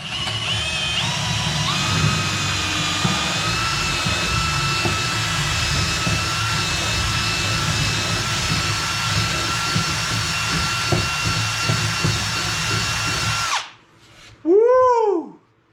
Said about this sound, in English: Now I'm going to drill a hole all the way through this and in through the drawer.